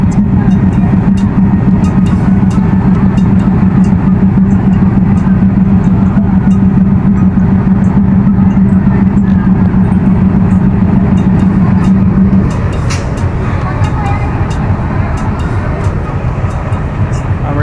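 A train pulls away from the platform at Bhanga railway station with a loud, steady low engine drone and a sustained tonal hum that cuts off partway through. A person talks over the rumble.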